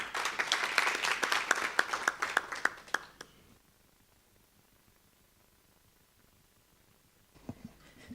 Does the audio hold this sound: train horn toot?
no